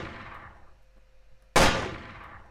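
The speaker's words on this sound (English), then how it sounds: "my gunshots here are just individual" A single gunshot sound effect fired from QLab during a musical theatre show, a sharp loud crack bursting in suddenly after a fading tone and ringing off with a decaying tail.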